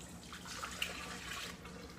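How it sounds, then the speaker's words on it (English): A lukewarm mixture of melted butter, milk, sugar and salt for doughnut dough pours into a mixing bowl, a soft continuous liquid trickle with a faint splash partway through, quiet and close, with no talk. "we're going to pour this into our mixing bowl"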